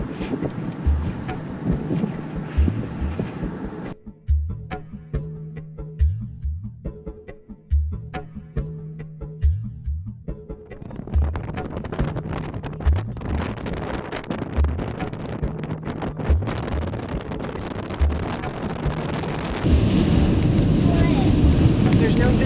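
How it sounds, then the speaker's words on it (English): Strong wind from a windstorm buffets a car as it drives through, gusting noise and rumbling road sound rising and falling, growing louder near the end, with people talking inside. "we're driving into a windstorm"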